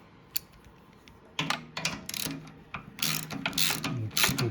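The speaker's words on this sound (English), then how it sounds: "So it's just a 10mm ratchet." A 10mm ratchet loosening the fuel tank bolt on a Kawasaki ZX6R motorcycle: close, crisp bursts of rapid ratcheting clicks in uneven runs, with brief pauses between strokes.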